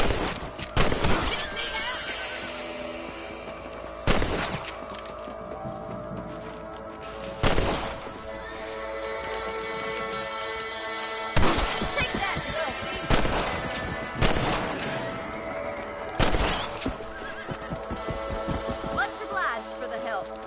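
Rifle shots ring out in a Red Dead Redemption shootout, as sharp loud cracks spaced every few seconds over a ranch backdrop with horse sounds, while voices talk between the shots.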